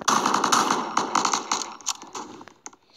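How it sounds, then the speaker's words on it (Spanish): Rapid bursts of Roblox gunfire crackle in quick succession, dense at first and then thinning into scattered single shots toward the end. "¡Qué disparo!"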